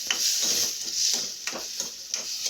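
Sabudana khichdi with tomatoes and green chili being mixed in a pan, soft repeated scraping and stirring strokes with a faint sizzle, close up and without speech.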